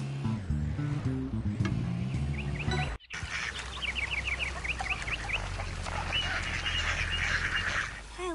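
Outdoor poultry chatter with ducks quacking and clucking in quick repeated bursts, moderately near, following a brief stretch of music that cuts out abruptly.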